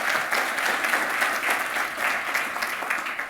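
An audience at a hospitality professional development conference gives a round of applause, bright and continuous clapping filling the room for a few seconds without talk.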